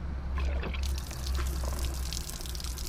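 Water gushes and trickles out of a tiny house storage tank after a drain lever is opened, a continuous close rushing flow with splashing, heard alone without talk.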